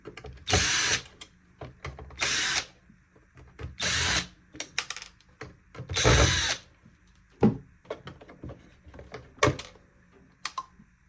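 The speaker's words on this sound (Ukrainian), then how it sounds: "Викручуємо гвинти." A power screwdriver backs screws out of a Roborock robot vacuum during a repair, giving several short, loud whirring bursts with faint clicks and handling noises between them.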